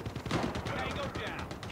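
Rapid bursts of gunfire from Call of Duty ring out in quick succession, dense and fairly loud over less than two seconds, with a voice talking underneath.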